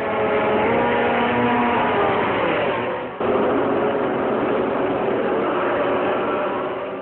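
A racing motorcycle engine holds high revs on the start grid, a loud continuous rasping roar with a brief dip midway before the steady revving resumes.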